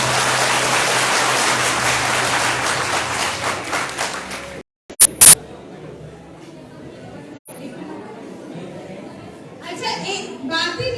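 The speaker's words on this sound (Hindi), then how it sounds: "एक बार सब अपने लिए जोर से तालियां बजा दो।" A group of children claps loudly for themselves in a dense burst under chatter, then the clapping cuts off, leaving a quieter room with a few knocks and murmurs.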